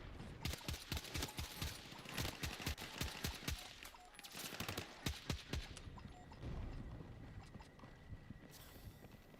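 Rapid rifle and gunfire bursts from the shooter game Battlefield 6 crack in quick repeated volleys, pausing briefly and then resuming, fairly faint overall with no talk over them.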